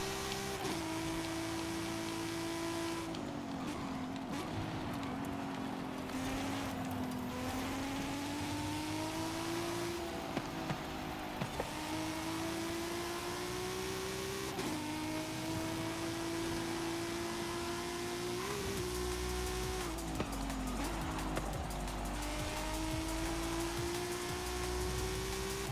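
A 2020 Toyota GR Supra in Forza Horizon 5 drones through a race with a continuous engine note whose pitch rises and falls as it accelerates and shifts, loud and steady with no talk over it.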